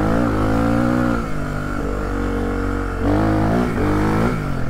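A Suzuki DR 350 enduro motorcycle engine runs close by, loud and continuous, with its pitch rising and falling through a couple of revs.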